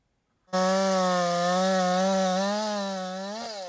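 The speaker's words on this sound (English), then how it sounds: "The sound of chainsaws filled the fall air around Corner Brook today" A chainsaw cutting fallen trees outdoors in Corner Brook roars steadily close by, its engine holding a constant buzzing pitch before briefly revving near the end.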